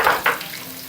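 Okra pieces frying in a tempering in a pan, with two quick bursts of sizzle and stirring at the start, then a lower steady crackle.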